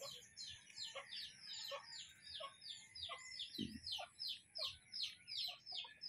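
Chickens chirp in a rapid, repeated rhythm, the small birds calling close by and fairly quiet, with a low thump partway through.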